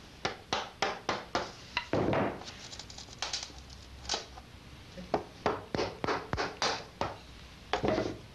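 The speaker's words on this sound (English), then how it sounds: "Now with a chisel, I begin to tap off these pieces" Chisel tapping off wooden end pieces on a guitar build, a series of sharp, close knocks in quick irregular bursts with a few brief pauses between them.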